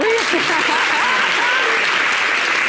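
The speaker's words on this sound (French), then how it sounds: "Applaudissez un peu." A television studio audience claps loudly and continuously on a French-language talk show, with voices and cheers mixed into the applause.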